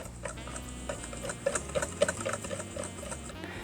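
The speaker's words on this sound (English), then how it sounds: "you're just going to whisk all of that together" Granulated and light brown sugar being whisked together in a bowl for an apple crumb pie, a close, rapid rhythmic ticking and scraping of the whisk that grows busier midway.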